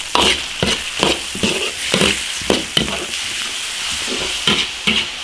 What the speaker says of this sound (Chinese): 炒香，炒出红油